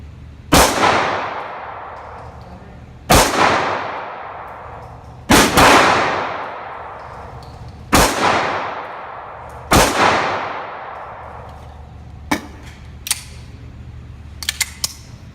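Pistol rounds fired at a target seven yards away: five loud, sharp cracks at uneven intervals, each trailing a brief echoing decay, followed by a few small faint clicks.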